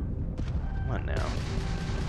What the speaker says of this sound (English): Oh, I may have missed him with the missile.